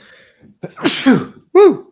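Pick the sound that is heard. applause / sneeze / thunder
sneeze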